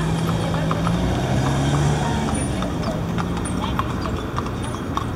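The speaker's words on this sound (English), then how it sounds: "Horse and carriage rides through the city of downtown Fort Wayne." Hooves of a horse pulling a carriage through downtown Fort Wayne clip-clop in a steady, close rhythm over traffic rumble and street noise, with people talking nearby.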